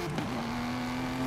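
Aston Martin Vintage GT12 race car in Forza Horizon 5, a steady engine drone holding one pitch with a brief flutter at the start, close and continuous throughout.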